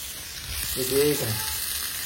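Food fries in a pan with a soft, steady sizzle, fairly close, and a brief tonal sound rises over it near the middle.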